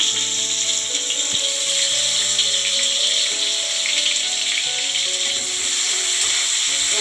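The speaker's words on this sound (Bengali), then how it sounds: "সরিষার তেল দিয়ে দেবো অল্প করে পেঁয়াজ কুচি দিয়ে দেবো" Chopped onion frying in mustard oil in a pan, a steady loud sizzle and crackle running throughout, with a faint musical tone underneath and no talking.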